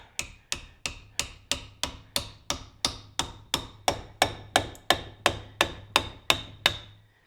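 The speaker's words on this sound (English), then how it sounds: "Ball peen hammer on wood." A ball peen hammer strikes a wooden wedge in a new oak hammer handle in a steady run of about twenty sharp knocks, evenly paced and close, each ringing briefly before the next.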